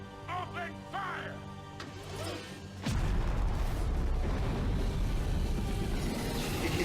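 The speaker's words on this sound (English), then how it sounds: "Heavy cannon, open fire!" In the animated series RWBY, tonal music gives way to a sudden loud heavy cannon blast, then heavy, continuous booming fire rumbles on without a break.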